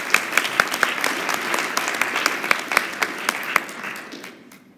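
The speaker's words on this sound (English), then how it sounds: "can we give a round of applause again for this table right here?" A short burst of applause from a modest crowd at a leadership talk, with distinct individual claps standing out before it thins and fades away near the end.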